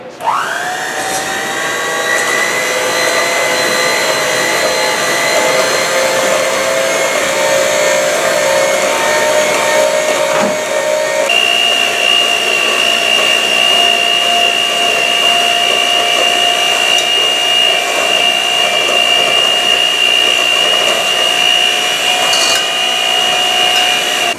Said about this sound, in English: getting the mixer going